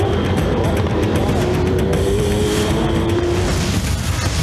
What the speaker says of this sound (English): V8 Supercars, the greatest show on wheels